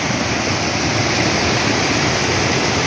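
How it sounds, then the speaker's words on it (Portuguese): A small forest waterfall rushes steadily and loudly close by, a constant broadband roar of falling water with no breaks. "É uma mini cachoeira, né?"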